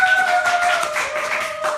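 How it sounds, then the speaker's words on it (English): Steady clapping from an audience, dense and continuous, with a faint sustained tone running underneath. "Give Mike a big clap."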